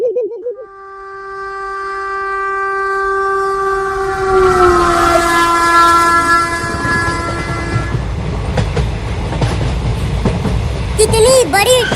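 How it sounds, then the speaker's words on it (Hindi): A train arrives at a station, sounding a long, loud horn and then rumbling and clattering as the cars roll in close by, with voices briefly audible near the end. "वो देखो, आ गई ट्रेन।"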